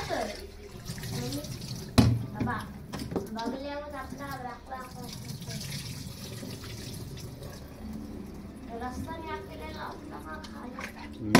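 Raw mutton, including nalli bones, being rinsed under a running tap for a Gatari-special mutton head curry, with water splashing steadily into a sink behind someone talking throughout.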